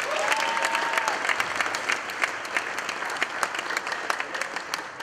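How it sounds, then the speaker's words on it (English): Audience applause at a party honouring a woman named Lana, a steady crowd of many hands clapping throughout at moderate loudness, with no talking over it. "So a round of applause for Lana"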